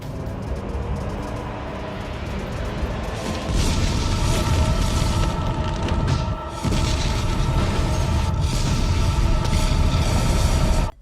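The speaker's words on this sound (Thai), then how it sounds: "มันกลับปิดท้ายด้วยระเบิดล้างโลกที่โคตรโหดสยองขวัญ" A massive doomsday bomb detonates in a film scene, a deep rumbling roar that swells louder partway through and keeps churning with heavy low-end blast noise and crackling debris.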